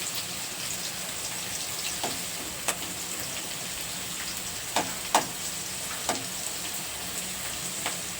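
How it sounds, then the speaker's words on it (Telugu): Green chillies fry in hot oil for a crab curry, a constant crackling sizzle with a few sharp spatula taps and stirring clicks spaced through, close up and without any voices. "ఈ పచ్చిమిర్చి వేగిపోయాయి"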